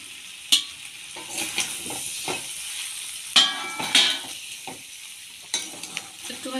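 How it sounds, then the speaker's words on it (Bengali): Pre-fried potatoes stirred into cooked duck meat in a pan, with a steady sizzle and several sharp scrapes and clinks of a spoon against the metal, no voices. "মাংসটা আমার কষাই করা হয়ে গেছে, আগে থেকে ভেজে রাখা আলুগুলো এবার দিয়ে দিচ্ছি।"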